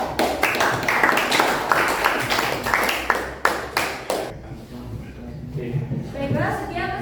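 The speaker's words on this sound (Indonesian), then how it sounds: "Tepuk tangan dulu." Classroom audience clapping after a group presentation, a dense burst of many hands lasting several seconds, fading out as a voice begins speaking.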